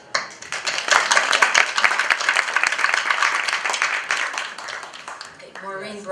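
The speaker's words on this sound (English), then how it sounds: "round of applause" An indoor audience at a club presentation breaks into sustained applause, dense clapping that swells quickly and holds for several seconds before tapering off, with some voices mixed in near the end.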